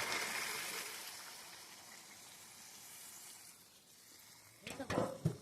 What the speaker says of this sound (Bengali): এবার এই গরম জলটা এর মধ্যে দিয়ে দেবো